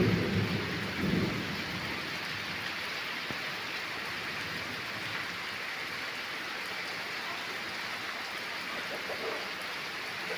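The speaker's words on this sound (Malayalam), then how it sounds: "നല്ല മഴയാണ്, പെയ്യുന്ന മഴ നല്ല അതിഗംഭീരമായിട്ട് നല്ലതായിട്ട് പെയ്യട്ടെ" Heavy summer rain with wind pours down steadily and loudly, with a deep rumble of thunder near the start and a constant wash of rain beating on surfaces throughout.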